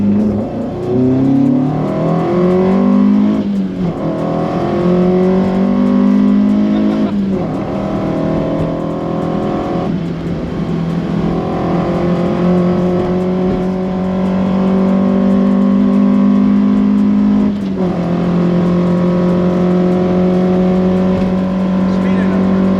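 A Mk2 Ford Escort van with a swapped C20XE engine drives, its strong engine note rising and falling through repeated gear changes with steady rasp throughout; people talk over it at times.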